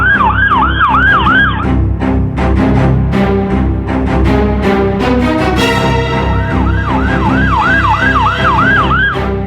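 An ambulance siren wails loudly in a busy Mumbai street in the Malvani area, its rising and falling tone sweeping at the start, dropping away amid dense traffic and street noise, then returning strongly near the end.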